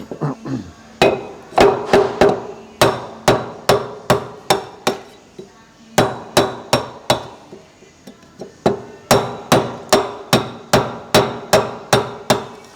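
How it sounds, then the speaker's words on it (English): A hammer drives a chisel to knock stuck material off a brake disc in a workshop, sharp metallic strikes landing in steady quick bursts with a short pause partway through, close and loud, with no talking. "we'll wear the dust mask and see if we can chisel it off"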